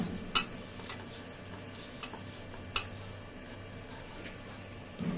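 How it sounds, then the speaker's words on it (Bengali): Spices being mixed with a little oil in a dish for coating eggplant, heard as quiet scattered clinks and scrapes of a spoon against the dish, a few sharper taps standing out over a soft background. "সবগুলো মশলা মেশানোর জন্য আমি তেল দিয়ে দিলাম। এখন মশলাগুলো ভালো করে মিশিয়ে নিব।"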